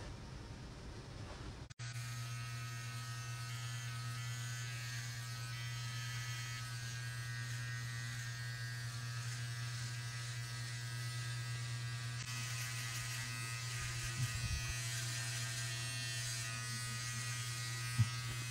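An electric shaver buzzes steadily and close up for a long stretch, a constant droning hum that shifts slightly as it moves across the skin.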